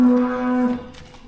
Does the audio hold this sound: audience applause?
no